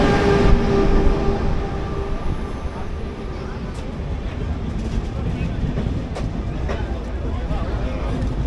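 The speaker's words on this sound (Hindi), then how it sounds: "ट्रेन जो है ओल्ड दिल्ली रेलवे स्टेशन से निकल पड़ रही है" A train pulls out of Old Delhi railway station on the run toward Saharanpur, giving a steady rumble of rolling wheels and carriages with faint clicks, moderately loud and continuous, with people talking in the background.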